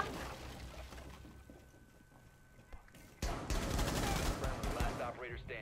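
Video game shooter gunfire breaks out midway: a sudden sustained burst of rapid, loud shots fills the second half, after a quieter stretch of background game ambience with some talk.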